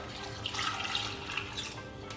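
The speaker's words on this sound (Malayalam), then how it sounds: "പിന്നെ നികക്കെ വെള്ളം ഒഴിച്ചു കൊടുക്കാം." Water poured over chopped tapioca in a pot, a short gentle splashing and gurgling pour heard close and fairly quiet.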